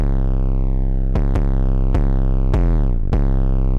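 Heavily distorted 808 bass from an FL Studio mixer preset, a gritty, dirty Ronny J style tone, plays a loud pattern of about six sustained notes with a pitch slide, bright harmonics filling the whole range, with no other sounds.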